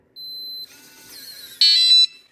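A digital keypad lock on a camper van door gives a sustained electronic beep, a short busy stretch of tones, then a second loud beep as it locks itself.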